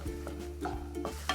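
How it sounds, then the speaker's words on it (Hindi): Chana dal with salt stirred and roasting in a hot pan, soft sizzling under repeated scraping strokes of a spoon against the metal, close and fairly quiet with no talking. "दाल को अब 2 से 3 मिनट के लिए हम भूनेंगे"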